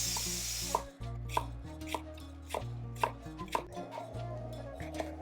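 Vegetables for a Kerala sadya koottu curry are chopped on a board with a knife, sharp close knocks repeating at a quick, uneven pace over a low background hum, with no one speaking.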